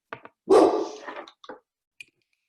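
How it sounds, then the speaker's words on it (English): A pet dog barks indoors in a home kitchen, a few short yaps followed by one louder, drawn-out bark and a couple of fainter clipped yips trailing off, fairly close by. "my dog is barking"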